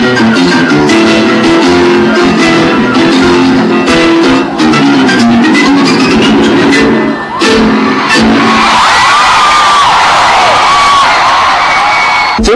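Concert crowd cheering and shouting loudly at a Channel V year-end pop concert, a dense sustained roar of fans with scattered whoops, music blending underneath before the cheers swell toward the end.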